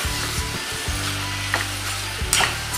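Potatoes being stirred into a sizzling gravy in a pan, with a steady frying hiss and occasional scraping and clacking of the spoon against the pan, close and fairly loud.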